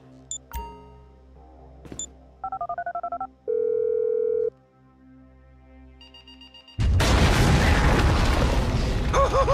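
Phone dialing in GTA 5 on PS3: a quick run of close electronic keypad tones and a steady ringing tone, followed by a sudden loud burst of game noise.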